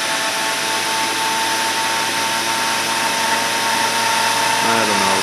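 A Teslajet disc turbine, a home-built 1 kW power unit with an 8-inch disc brake, spins near 10,000 RPM, giving a steady, loud high-pitched whine and hum with no pauses.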